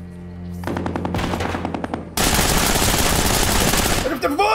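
Rapid bursts of video game gunfire, a steady rattling volley that grows louder and denser, with a brief voice at the end.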